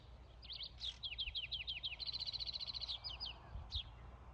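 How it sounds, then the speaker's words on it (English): A small bird perched on a tree limb on a clear Wyoming day sings a long, close series of rapid high chirps and trills that repeat steadily throughout, with no talking. "She's just singing away."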